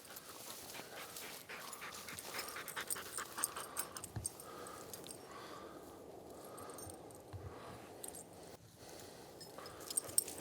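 A retriever dog pants steadily and close by while fetching a shot bird on a wingshooting hunt at a Kentucky lodge, with soft breathy huffs, faint whimpers and rustling movement throughout.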